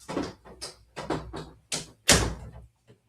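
An interior door is pushed shut in a hot room with a fan running, a series of dull knocks and thumps building to one louder close near the end, all fairly near and with no talking.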